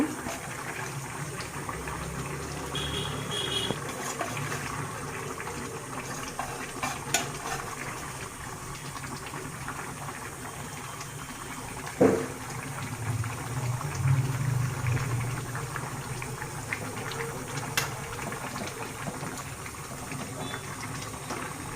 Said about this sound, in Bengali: ঝোলটা আমার বলক আসছে